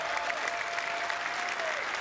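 Audience applause fills the clip from start to finish, a dense, steady wash of many hands clapping without a break and no talking over it.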